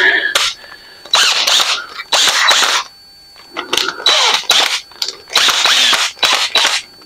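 A cheap Temu power drill spins in repeated short bursts, about eight whirring spurts of roughly half a second each with brief silences between, loud and close.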